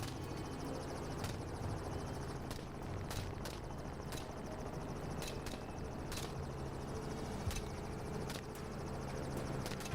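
A helicopter used for feral hog hunting flies overhead with a continuous rotor and engine roar, steady and fairly loud throughout, with faint periodic clicks over the drone.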